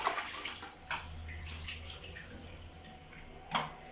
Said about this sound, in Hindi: आराम से पानी डालिए यहाँ पे कि उनके मुंह में ना जाए